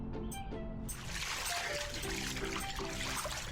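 Water splashes and trickles from a spout into a pot, a steady, close pour with gentle gurgling and splatter. It follows a couple of brief tonal sounds at the start.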